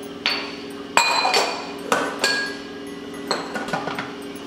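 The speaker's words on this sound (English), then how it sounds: "We're going to insert our measuring cup to the lid." Thermomix measuring cup set into the lid while making ANZAC biscuits, giving a few sharp plastic clunks and knocks with bright ringing overtones, close and fairly loud against a quiet kitchen.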